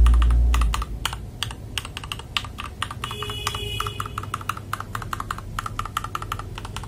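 A mechanical keyboard with Gateron switches, an FL Esports MK870 kit, is typed on in a rapid, uneven stream of crisp clacks, close and clear, with no talk.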